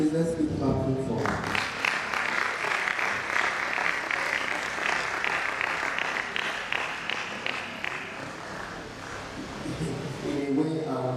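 Lecture hall audience applause, a dense burst of clapping that swells after a short spoken word and tapers off, with voices briefly at the start and end.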